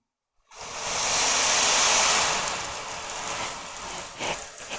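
A handheld sound toy mimics ocean waves: a soft broadband hiss swells up after a moment of silence, holds, then ebbs and surges again, close and steady with no voices.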